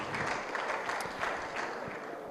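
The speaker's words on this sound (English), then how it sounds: "Please, a round of applause for her" Steady applause from a crowd at a civil society roundtable fills the whole stretch, a dense wash of many hands clapping at a moderate distance.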